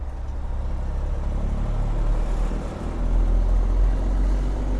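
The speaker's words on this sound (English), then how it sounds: "I'm just out here splitting these gears" A truck's diesel engine drones steadily from inside the cab as the driver splits gears, its low rumble dipping briefly then swelling louder as the revs climb again.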